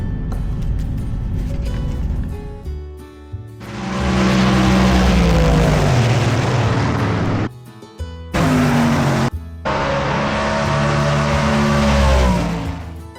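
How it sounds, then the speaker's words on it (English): A 1970 Plymouth Duster drag car with a 500-cubic-inch Chrysler engine roars at full throttle on the strip, with loud, sustained blasts of engine noise, a short break, then another long pass, all without talk. "is a 70 Duster powered by a 500-inch Chrysler engine"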